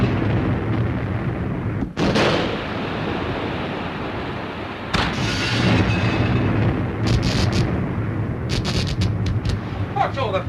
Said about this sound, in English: It's hard to tell with these depth charges.